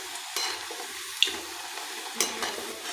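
Potato finger chips deep-frying in oil until reddish, a quiet bubbling hiss with a few soft scrapes and a sharp tick, close by, no talking.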